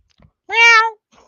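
A cat gives a single clear, drawn-out meow, close and fairly loud, with near silence before and after.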